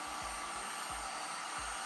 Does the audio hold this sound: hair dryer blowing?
yes